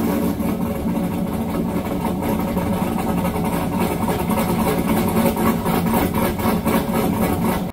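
A cammed V8 Tahoe engine idles on a dyno, a loud, steady, close rumble with a choppy low pulse that holds unbroken throughout, with no talking.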